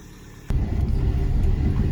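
A car pulls up for a pickup at night, its engine suddenly rising into a loud, steady rumble close by after a moment of quiet.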